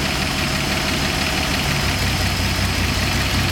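A Slant 6 engine idles loud and close with a steady, slightly uneven rumble while the distributor timing is adjusted.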